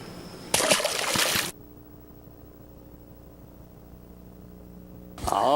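A fish released by hand back into the water makes a brief, loud splashing burst, then quiet outdoor hum follows before another splash of water near the end.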